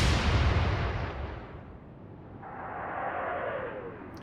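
A warship's gun firing in the naval game Atlantic Fleet, a heavy booming blast that decays into a long rumbling roll, followed by a faint rising whistle of the shell in flight.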